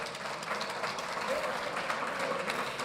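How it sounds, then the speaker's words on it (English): Sustained applause from a gala dinner and awards audience for a live band, steady and dense throughout, with chatter mixed under the clapping. "will you give them a round of applause, please?"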